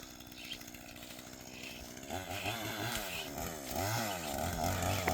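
A small chainsaw cutting into a large mango tree, running at a rough idle before revving hard into the cut, then a loud, wavering, labouring whine with no speech.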